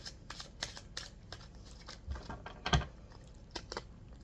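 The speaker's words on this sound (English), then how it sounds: "give it the old overhand shuffle" Playing cards are shuffled by hand overhand in a quick series of soft, papery riffles and slaps, close and moderately quiet, with no talking.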